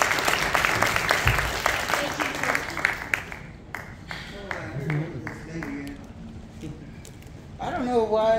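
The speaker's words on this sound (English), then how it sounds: "Can we give her a round of applause?" A church congregation applauds loudly for several seconds, then the clapping thins to scattered claps as a voice begins speaking.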